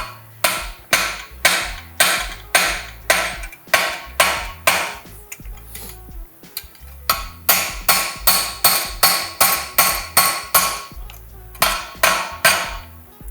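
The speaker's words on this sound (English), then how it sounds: "I just want to kind of hammer it on there till it stops" Repeated metallic hammer strikes on a pipe hammer punch as a guard is driven into place, in steady bursts of close, sharp clanks with a brief pause midway.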